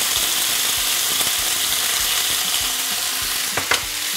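Chicken pieces laid in a single layer in a hot pan sizzle loudly and steadily, with light scraping and tapping as pieces are moved about, no talking.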